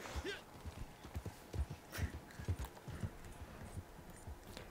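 Horse hooves clip-clopping at a steady rhythm in the Red Dead Online video game, moderately close and fairly loud, with a brief whinny and game ambience around them.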